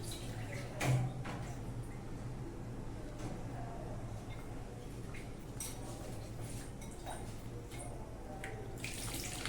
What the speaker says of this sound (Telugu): ఒక పెద్ద గ్లాస్ వరకు పోసాను అనుకోండి నేను వాటర్